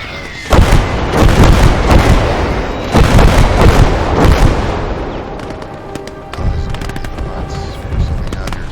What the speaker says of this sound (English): Access artillery again.